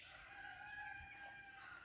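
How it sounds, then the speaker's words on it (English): A neighbor's rooster crows in the distance near woods on a property, faint and drawn out, against a quiet outdoor spring background. "Our neighbors have a rooster, which we love to hear."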